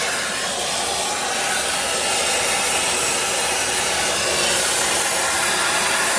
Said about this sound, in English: we're gonna heat up the nut.